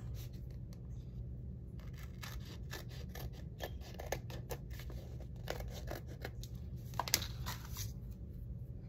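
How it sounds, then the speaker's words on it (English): Scissors snip through paper being trimmed for a French country lilac envelope folio, a series of quiet close cuts in an uneven rhythm over a low steady background hum. "And let me trim it here too."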